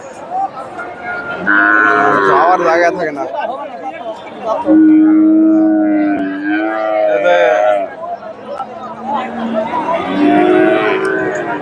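Cattle, including cross-bred heifers, moo at a busy rural cattle market in Dhap. Several long, low bellows are heard close by amid crowd chatter, and someone speaks over them.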